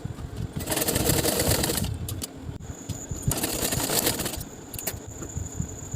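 Sewing machine stitching the front of a Sabyasachi-style blouse, running in two long loud bursts with a brief pause between them, steady mechanical whir throughout.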